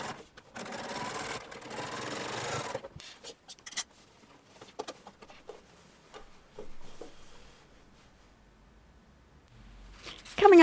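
A sewing machine double top-stitching the rever collar of a shirtwaister dress: a loud steady run of stitching for a few seconds, then quieter handling, fabric rustles and short bursts of stitching, ending with a sharp clatter.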